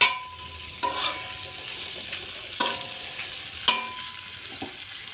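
Water is added to a vegetable curry cooking in a pan. A hissing sizzle runs throughout, broken by several sharp clinks and scrapes, all close and clear with no talking.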